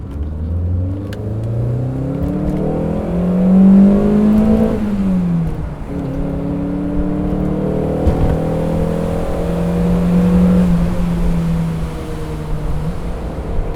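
A 1996 Alfa Romeo 916 Spider's naturally aspirated four-cylinder engine climbs through the revs in a loud, close run, drops with a gear change around midway, then pulls hard again in a smooth rising drone without talk.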